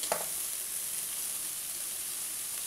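Carrot, beans and cabbage fry in a pan for vegetable vermicelli upma, a quiet continuous sizzling hiss with a brief stirring clatter at the very start and no voices.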